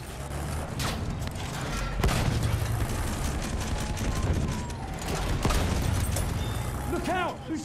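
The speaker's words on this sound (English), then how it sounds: "Look out! Machine gun!" Machine gun fire in Battlefield 1 multiplayer online gameplay, dense continuous bursts mixed with explosions and battlefield clatter, loud and busy throughout.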